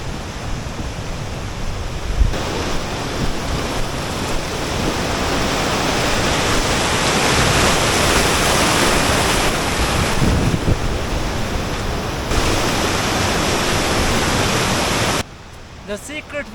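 A Himalayan mountain river rushes steadily with a dense, roaring broadband wash. It stays loud and unbroken throughout, with wind-like texture and no voices, then drops abruptly at the very end.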